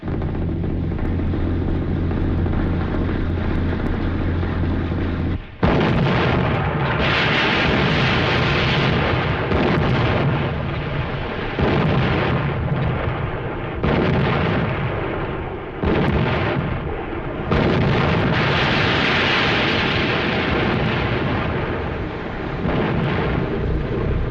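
Naval gunfire from a 1942 war film: after a low rumble, a sudden heavy blast opens a long, loud barrage of overlapping booms and roaring detonations that continues without letup.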